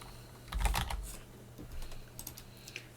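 Quick bursts of typing on a computer keyboard in a Linux terminal, a few clustered clacks followed by lighter scattered keystrokes, close and fairly quiet over a faint steady hum.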